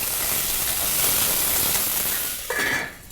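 Vegetables sizzling in a hot pan, a steady loud hiss and crackle throughout that briefly shifts and thins as they are flipped near the end.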